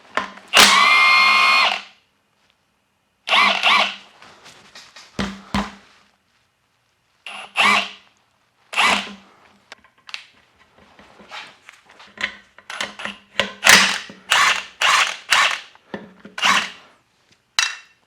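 A BeadBuster XB-550 heavy-duty bead breaker works on a tire bead with a loud buzzing tool burst, then repeated short clanks and pops in bursts separated by quiet pauses.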